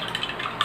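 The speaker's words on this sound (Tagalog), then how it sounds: "So, haluin natin ulit." Betadine being stirred into a mixture, a soft scraping swirl close up, fairly quiet and steady, with a slightly sharper clink near the end.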